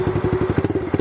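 A dirt bike engine revving as the rider pulls away, a rapid, throbbing, low-pitched putter of firing pulses with a rough, uneven beat, close and fairly loud, with no talk.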